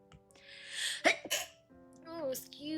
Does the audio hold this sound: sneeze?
yes